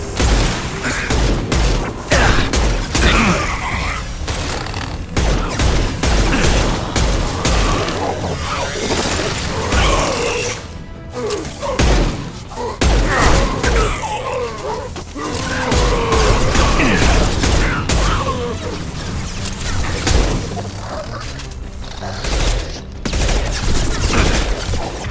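Dense heavy-weapon fire in a Mass Effect 2 battle on the colony of Horizon, with loud continuous blasts, booms and whooshes layered over a busy combat soundscape throughout.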